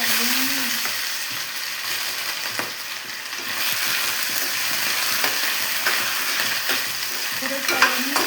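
Mustard greens with potato and dried chillies stir-frying in a pan, a continuous close hiss of sizzling oil with occasional scrapes and clinks of a spatula stirring.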